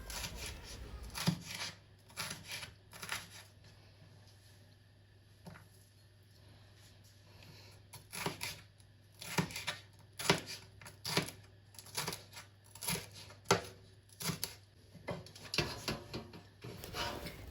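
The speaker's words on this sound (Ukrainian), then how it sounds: "перець наш ми нарізаємо от такою соломкою" A knife cuts bell pepper into thin strips on a board, with irregular bursts of quick, crisp chops separated by pauses, close and fairly quiet.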